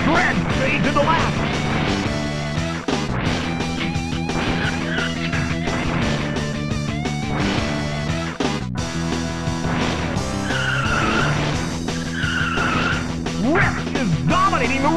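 Race cars at the start of a race in the SNES video game Rock n' Roll Racing, engines and tire squeals buried under loud, continuous game music with a synthesized announcer voice.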